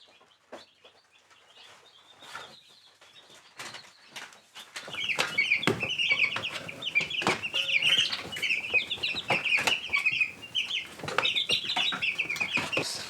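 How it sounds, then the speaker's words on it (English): Two-week-old chicks peeping and cheeping in dense, rapid high chirps that grow louder and busier midway, with scattered clucks and shuffling close by and no speech. "Happy bird."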